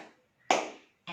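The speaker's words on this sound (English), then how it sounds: "Like you can clap 3 times" Hands clapping in a quiet room during a children's counting activity, a few sharp, close claps separated by silence, the first faint and the following ones crisp and distinct.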